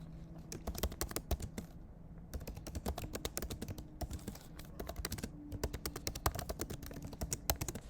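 Rapid clicking keystrokes on a computer keyboard as a message is typed, a dense, irregular patter of close, quiet taps with brief pauses between bursts.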